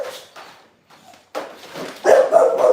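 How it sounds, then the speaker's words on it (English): A dog barks in a few short, close bursts separated by brief pauses, ending in a louder, sustained stretch of barking and yipping. "You ain't gotta be barking, bro."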